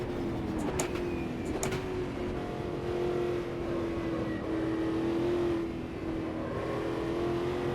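A racing car engine in Automobilista 2 drones at a steady high pitch, briefly revving and shifting early on before settling into a sustained whine with slight rises and dips, heard alone.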